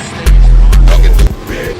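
A 900 horsepower methanol-fueled sprint car passes on track at M1 Concourse, a loud, deep engine roar lasting about a second before dropping away abruptly.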